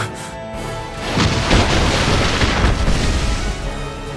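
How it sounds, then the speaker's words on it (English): Bombardment explosions in the video game Final Fantasy War of Visions swell into a heavy, sustained rumbling roar of blasts that stays loud and dense to the end, with no voices. "A bombardment from Styria."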